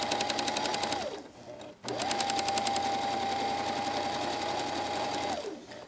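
A sewing machine stitches a jacket sleeve lining over pins, running in two close, steady bursts of whirring motor and rapid needle clatter separated by a brief stop.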